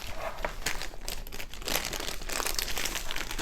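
Diamond painting kit packaging crinkles and rustles as it is pulled open, a close, steady run of plastic crumpling and small tearing noises.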